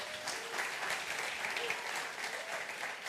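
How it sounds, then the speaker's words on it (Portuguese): Audience at a church talk applauding, a dense steady patter of many hands clapping throughout, moderately loud and evenly sustained. "Uma salva de palmas para o João."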